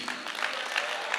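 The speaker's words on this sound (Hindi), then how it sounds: "जोरदार तालियां होनी चाहिए।" Audience applause during a business planning talk, a steady wash of clapping from a room full of people, moderately loud and continuous through the short moment with no speech over it.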